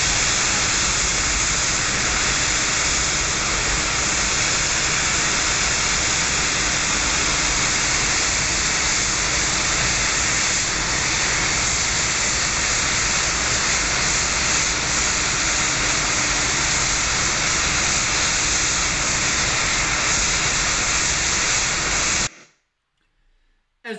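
Steam vents continuously from a discharge on an industrial steam line carrying condensate, a loud, steady roaring hiss held for over twenty seconds before cutting off abruptly into near silence.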